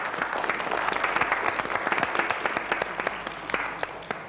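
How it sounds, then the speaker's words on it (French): Studio audience of a French TV word-and-numbers game show applauding, a dense wash of claps with scattered sharper hits, steady and moderately loud. "Bravo, monsieur, ça s'applaudit"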